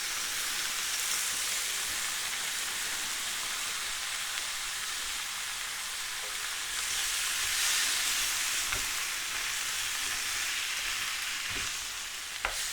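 Chicken, peppers and onions sizzle and fry hard in a pan for a stir fry, a dense steady crackle with occasional soft knocks of stirring and no talking.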